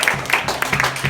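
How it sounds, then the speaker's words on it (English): Crowd at a stand-up comedy show in Stanhope, New Jersey, clapping in a brief, dense burst of applause that fills the room, loud and close. "Clap it up for single moms."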